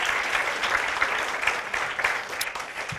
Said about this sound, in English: How about another round of applause for Leonard and his amazing story?